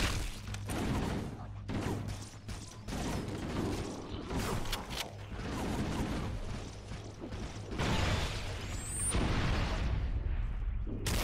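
A grenade blast and gunfire in the shooter game Halo mix into dense, clattering combat noise, with repeated sharp bangs and bursts over a continuous loud rumble and a rising whoosh near the end.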